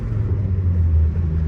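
Dodge SRT-4 Neon with full bolt-ons, custom dyno tune and two-step, a deep steady exhaust rumble idling or cruising close by, low and droning without revs or pops.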